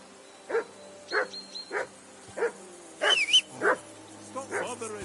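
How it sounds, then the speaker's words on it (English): A dog in the video game Kingdom Come II gives a series of sharp, evenly spaced barks, roughly one every half second to second, with a whimpering, yelping call in the middle, close and clear over a quiet background. "Do something with that mutt, Henry."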